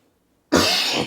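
A single loud, harsh cough bursts out suddenly after a moment of silence, close to the microphone.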